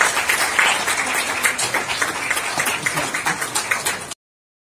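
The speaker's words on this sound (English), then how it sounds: "here for the new round of applause, ladies and gentlemen, on the release of this book" Crowd claps at a book launch for a public health title at India Habitat Centre, brisk continuous applause from many hands, loud and close, tapering slightly before cutting off abruptly.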